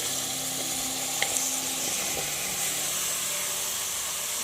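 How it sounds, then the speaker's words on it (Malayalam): Cut mushrooms are tipped into a hot tomato masala, giving a steady broadband sizzle and hiss throughout with a couple of faint knocks near the start; no voices. "കൂണ് നമ്മൾ ഇതിലേക്ക് ചേർത്ത് കൊടുക്കുകയാണ്"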